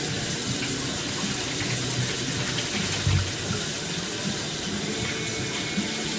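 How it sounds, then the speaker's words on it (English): Tap water runs steadily into a kitchen sink while hands are washed, a close, continuous splashing hiss with a brief louder splash partway through. "I'm gonna just wash my hands"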